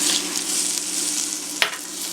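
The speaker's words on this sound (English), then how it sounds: "we basically want to brown the tempeh, which should take about 15 to 20 minutes" Tempeh sausage browns in a pan, a steady close sizzle with faint stirring scrapes and one brief clatter near the end, no talking.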